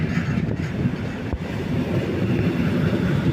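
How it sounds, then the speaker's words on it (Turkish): A TCDD Class DE 33000 diesel-hauled mixed freight train rumbles past up close at Germencik station, a steady low roar of heavy rolling stock with faint rhythmic wheel clatter and no voices. "Harman Yük Treni gidiyor"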